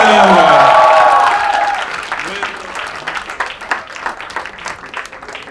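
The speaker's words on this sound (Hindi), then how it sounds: "जोरदार तालियां रजत सूद और बादल शर्मा के लिए, जोरदार तालियां हो जाए।" Audience applause at a crowdwork comedy show for Rajat Sood and Badal Sharma, loud at first with a voice over it, then settling into steadier, softer clapping that carries on to the end.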